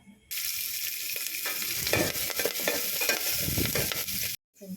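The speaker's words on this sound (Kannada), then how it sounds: "ಈರುಳ್ಳಿ ಒಣಮೆಣಸಿನ್ಕಾಯಿ ಬೆಳ್ಳುಳ್ಳಿ ಕರಿಬೇವು ಇದಿಷ್ಟು ನೆಲಕ್ಕೆ ಫ್ರೈ ಮಾಡೋಣ" Onion, dry red chilli, garlic and curry leaves fried in hot oil for a village-style palya: a loud, dense, continuous sizzle with crackling and stirring that starts abruptly and cuts off near the end, no voices.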